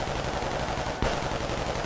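An assault rifle fires continuously in a custom zombies video game, a dense, steady rattle of rapid shots with a slight jolt partway through, loud and unbroken with no voices.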